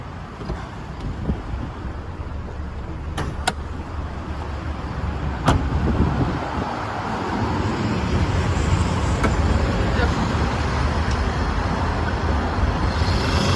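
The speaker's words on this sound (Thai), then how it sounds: "และผมขออนุญาตสตาร์ทเครื่อง ด้วยเลยนะครับ จะได้ฟังเสียงเครื่องนะครับ" An Isuzu D-Max Spacecab 2007 with a 2.5 i-TEQ diesel engine is started, then settles into a steady, moderately loud idle rumble, with a few sharp clicks early on and no talk.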